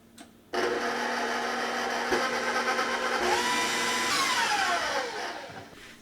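An electric mixer runs through peanut cookie dough for Dutch peanut cakes, a loud steady motor whine that starts abruptly, shifts pitch partway through as it slows, then fades out near the end.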